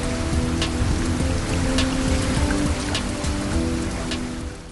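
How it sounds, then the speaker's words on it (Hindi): Steady rain falls in Lahore, a dense, continuous patter of drops on surfaces with scattered sharper splashes, fairly loud and even throughout with no voices. "लाहौर समेत मुल्क के बेशतर इलाकों में साल 9 की पहली बारिश।"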